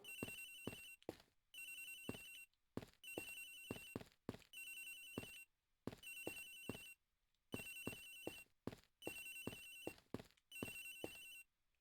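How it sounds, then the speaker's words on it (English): Electronic telephone ringing in the video game Ace Attorney Investigations: Miles Edgeworth, repeated bursts of trilling tones in an even on-off rhythm, with faint footstep-like taps between rings. "A loud phone."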